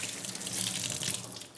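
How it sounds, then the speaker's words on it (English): Tap water runs steadily into a sink as raw chicken pieces are rinsed after brining. The flow is close and continuous, a broad rushing splash with no voices. "one by one, we're gonna take our pieces of chicken out and rinse them off."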